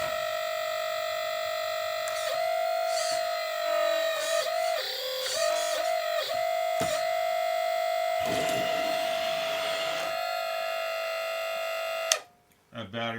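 An RC model excavator runs with a steady electric whine and shifting mechanical buzz as it pivots and works, someone talking over it throughout before the motor cuts off near the end.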